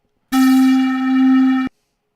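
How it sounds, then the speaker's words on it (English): A single pan flute sample note in Reason's Grain sounds clearly for over a second, breathy and steady with a gentle swell, then cuts off abruptly into silence. "it is a pan flute, and it sounds like this."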